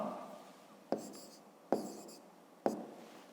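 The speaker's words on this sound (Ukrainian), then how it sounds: "П'ятачок пишемо 132 кілограми. Далі пишемо ІА" A pen writes on paper close up with soft scratchy strokes, broken three times by sharp taps as the pen comes down on the page at a steady pace.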